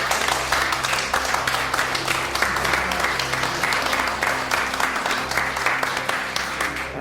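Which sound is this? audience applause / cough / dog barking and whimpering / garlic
audience applause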